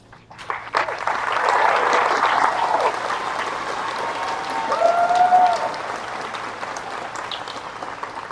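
Applause rises from a university commencement crowd at Hollins University, a broad, sustained roar of clapping that swells after a quiet start, holds for several seconds with a few voices and whoops, then thins toward the end.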